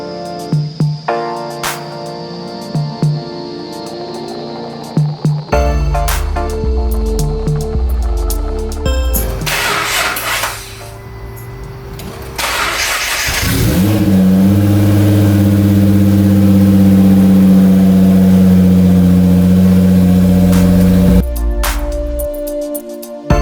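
A Nissan GT-R R35 engine cranks and catches, then revs loudly up and down before settling toward a steady idle.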